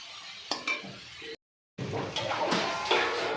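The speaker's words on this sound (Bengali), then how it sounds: "এবারে মশলার সঙ্গে ভালো করে নাড়াচাড়া করে নিচ্ছি" A spatula scrapes and clinks through bok flowers with spices and salt in a pan, a few sharp knocks followed after a short gap by continuous stirring over a soft sizzle.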